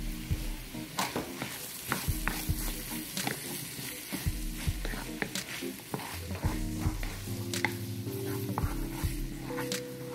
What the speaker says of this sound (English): we are going to give this a nice stir